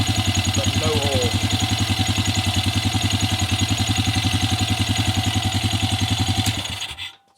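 Honda Rancher 350 ATV engine idling close up with a fast, even puffing pulse of air from a breather tube, steady throughout before cutting off near the end.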